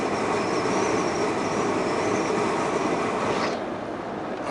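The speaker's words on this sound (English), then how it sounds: "I'm taking a picture of that train mainly" A long freight train rolls past close by in central Washington State, a dense continuous rumble and rattle of wheels with a faint metallic squeal, fading slightly near the end.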